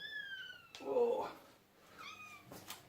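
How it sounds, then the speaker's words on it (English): A young kitten meowing in a thin high pitch, two short plaintive calls a second apart, close and fairly soft, with someone talking quietly in between. "Got a very high pitch meow going on."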